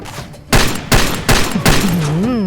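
Four sharp, loud gunshots ring out in quick succession in the video game Far Cry 2, followed by a warbling electronic tone, with no talking.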